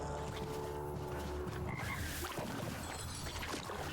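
Deep, rattling croaks from the Frog King in the video game Death Must Die, repeated over a dense synthetic ambient background, fairly quiet and with no voices.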